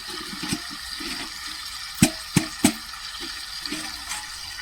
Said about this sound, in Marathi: दे पाणी टाकून आता